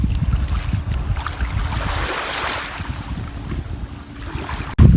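Wind buffets the microphone at a seaside beach at Ao Khung Kraben in Chanthaburi, a loud continuous rushing roar with surf-like swells and a sharp gust near the end.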